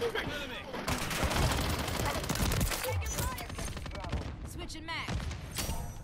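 Rapid gunfire bursts from a first-person shooter video game battle rifle, dense and continuous across the clip, mixed with impacts and game effects under a busy soundtrack.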